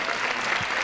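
Dense, loud applause from a concert audience at a folk song music night, cheering a children's choir, a continuous burst of clapping close by.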